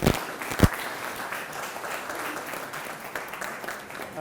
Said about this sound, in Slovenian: Dajte aplavz tejne dami